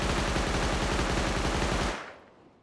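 An automatic weapon in Rust fires a fast, even burst of close, loud shots for about two seconds. The shots then stop abruptly and a short echo fades out.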